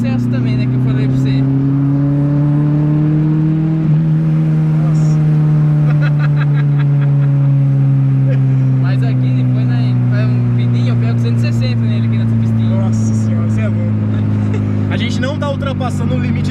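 A naturally aspirated Chevrolet Monza engine is revved hard to its limiter, the loud droning note climbing and holding near the cutoff for a long stretch. People talk over the engine throughout.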